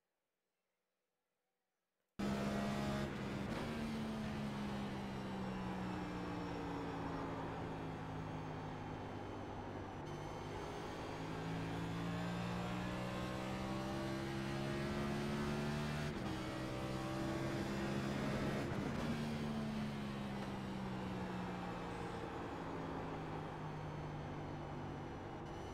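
A NASCAR Next Gen race car laps the New Hampshire flat track in iRacing, its engine droning steadily and climbing through the gears with rising and falling revs, shifting pitch as it brakes into and powers out of the corners.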